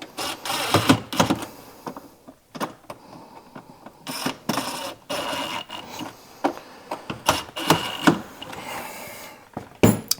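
Mount bolts on a plug-and-play sound system being tightened with hand tools during an installation, irregular close ratcheting, scraping and clicking bursts with short pauses between them, no talking.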